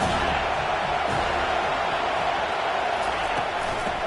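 A college football stadium crowd roars steadily in a dense, continuous wash of cheering during a big third-down play, with no breaks or distinct voices standing out.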